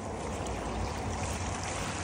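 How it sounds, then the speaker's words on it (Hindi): Steady, loud rush of sea waves at night under a starry sky in Canada, a continuous broadband wash with no breaks and no voices. "जो ये समुंदर की लहरों की आवाजें हैं ना"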